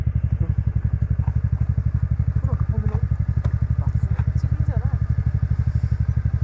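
A motorcycle engine thrums close by with a steady, rapid pulsing beat on a ride to snowy Daman, Nepal, while a person talks over it.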